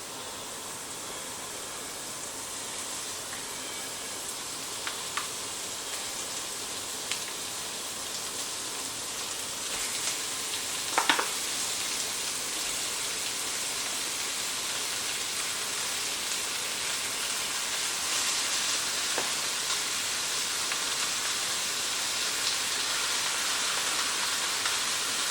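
Minced meat frying in a pan for South African savory mince, a steady broadband sizzle like rain running throughout, with a few faint clinks near the middle and no talking.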